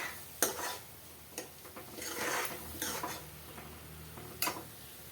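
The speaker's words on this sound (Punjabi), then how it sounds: "ਹੁਣ ਇਹਨੂੰ ਚੰਗੀ ਤਰ੍ਹਾਂ ਭੁੰਨਾਂਗੇ ਜਿੰਨਾ ਚਿਰ ਇਹ ਬ੍ਰਾਊਨ ਨਹੀਂ ਹੋ ਜਾਂਦਾ" Quiet kitchen scraping and stirring with sharp clinks of a utensil against a pan, over a faint sizzle of a tempering roasting in ghee, with no talking.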